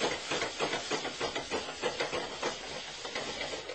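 Placenta flambéed with a dash of cognac in a pan, a steady rushing hiss of flame with soft crackling pulses, fairly quiet and continuous with no talk.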